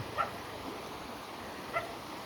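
A dog barks from across a flowing stream in a rural Idukki village in Kerala, giving two faint, distant, brief yelps about a second and a half apart over soft outdoor ambience.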